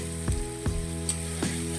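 Spice masala for chicken curry frying in oil, a steady quiet sizzle broken by three soft scraping stirs at irregular intervals.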